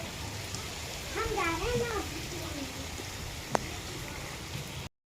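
Rain falls steadily through the rainy season, a constant close hiss that runs the whole time, with a voice and a brief sharp tap partway through.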